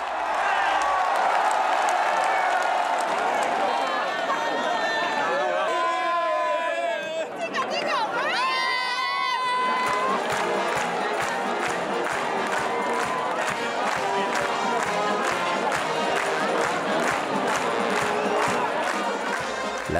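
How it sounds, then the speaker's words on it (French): Festival crowd at a Saint-John celebration in Menorca erupts as a rider's lance passes through a suspended ring: sustained loud cheering, shouting and clapping filling the space, with rhythmic chanting or clapping pulses later on. "Lorsque le but est atteint, la foule se déchaîne."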